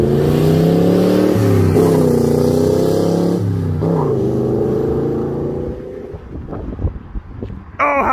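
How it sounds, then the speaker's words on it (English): A 1972 Chevy Corvette engine revs loudly and close by, its pitch rising and falling across several sustained pulls before settling into rougher idle, with some wind buffeting on the microphone. "Oh, listen to that car."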